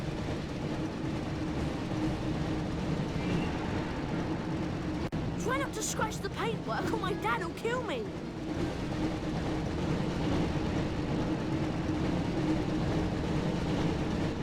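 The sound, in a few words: train in Harry Potter Chamber of Secrets video game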